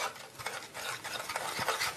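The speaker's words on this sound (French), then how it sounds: "je vais aller remuer un peu ce chocolat qui fond" A spoon stirs chocolate melting with a little water in a saucepan, making soft, close scraping and swishing strokes in an uneven rhythm, with faint clinks against the pan and no voices.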